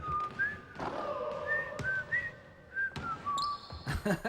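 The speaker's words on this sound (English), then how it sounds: "I like the whistling." Someone whistles a light, wandering tune with short notes, punctuated by several dull thumps like a bouncing ball, close and moderately loud.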